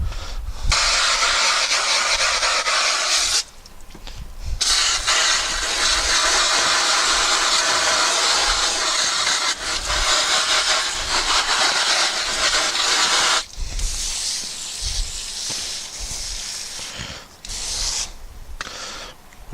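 Hose water spraying and rinsing dirt off a pool robot beside a pool, a loud close rushing hiss that cuts out briefly a few times and resumes, with no talking.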